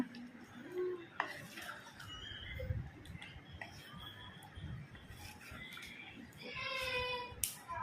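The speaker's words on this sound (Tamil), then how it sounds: "லைட்டாக பரட்டி விடுறேங்க" Fish curry in a pan being gently stirred: soft scraping and light clinks of a spoon against the vessel, faint and intermittent, with brief background voices and a quiet kitchen bed.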